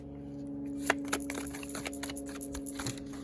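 Tarot cards shuffled by hand, a quiet run of soft papery riffles and taps with a couple of sharper snaps near the start, heard close against a steady background hum.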